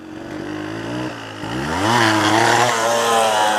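Dirt bike engine, a Suzuki DRZ 400 or Yamaha DT 125, with the throttle held about half open, a close buzzing drone that climbs in pitch as the revs rise and then holds steady.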